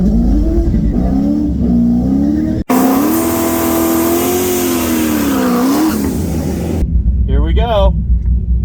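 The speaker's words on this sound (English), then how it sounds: "There's a good burnout." A street car does a burnout at a drag race, its engine revving hard and steadily for several seconds with tire noise, loud and close, briefly cut, then fading as a voice speaks over the end.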